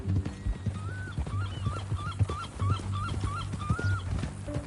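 A horse in the Western game Red Dead Redemption 2 clip-clops at a steady walking rhythm while a whinnying, whimper-like call repeats over the hoofbeats, all close and moderately loud.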